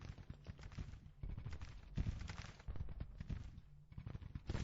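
Musket volleys in a Grand Tactician American Civil War battle, dense crackling rifle fire rolling in rapid irregular bursts at mid distance, with brief lulls between waves and no talking.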